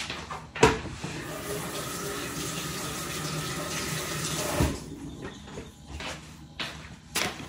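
A pot being filled with water from a kitchen tap for birria beef, a steady running stream broken by a few sharp knocks, with the flow stopping partway and some clatter afterward.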